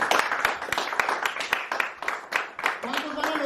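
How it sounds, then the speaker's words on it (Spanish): A church congregation claps in sharp, fairly even beats for a few seconds, with voices speaking and calling out alongside. "¿Cuántos le dan al Señor un aplauso por su palabra?"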